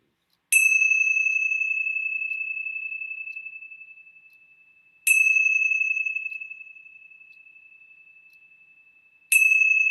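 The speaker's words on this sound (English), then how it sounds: "let's begin our time together with the ringing of the bells." Three struck bells ring out one after another, each long tone slowly fading before the next strike, clear and alone in silence.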